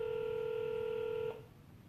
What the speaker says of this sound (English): Ralph Spataro hopefully answers the phone call right now.